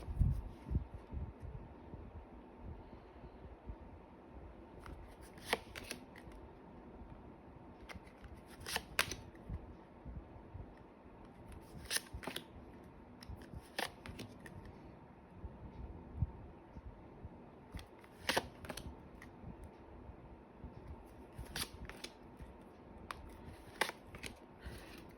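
Tarot cards are handled and shuffled by hand in a quiet indoor room, producing soft papery rustles and a handful of sharper riffling bursts spread across the stretch, with no talking.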